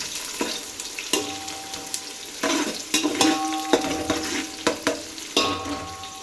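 Egg biryani base cooking in a pan: a spatula scrapes and stirs chillies through hot oil, making repeated sharp scraping strokes over a steady, close sizzle.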